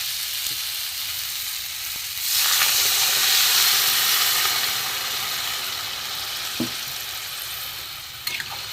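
Water is poured into a pan of sizzling fish egg fritter curry, and a steady hiss and frying crackle swells louder partway through before settling back to a continuous sizzle.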